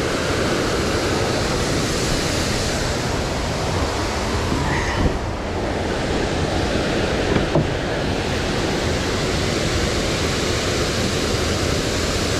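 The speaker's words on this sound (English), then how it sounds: "This waterfall is loud." Loud waterfall spilling over an Ohio River dam, a dense, constant roar of rushing water heard up close, with no talk.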